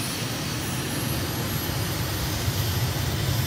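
An aircraft in Microsoft Flight Simulator starts its takeoff roll on runway 22 at Malabo, Equatorial Guinea: a loud, steady engine roar with a droning hum underneath, continuous throughout, with no talk.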